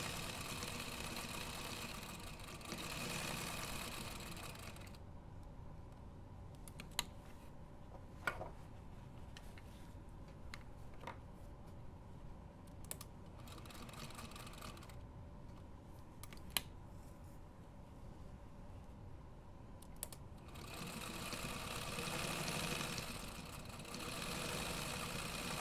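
An old sewing machine stitching pockets onto a road trip bag runs steadily at a slow pace, a soft mechanical whir with occasional sharp clicks and ticks, close by, stopping in the middle before resuming.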